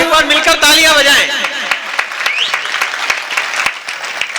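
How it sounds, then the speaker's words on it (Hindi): An audience at a kavi sammelan poetry gathering in Bareli, Raisen breaks into sustained applause, loud at first and then thinning into scattered claps, with a voice speaking over the start. "एक बार मिलकर तालियां बजाएं"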